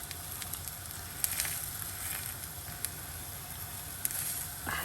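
An egg veg sandwich frying in a pan, a steady close sizzle with soft scattered pops and crackles, continuous and moderately quiet.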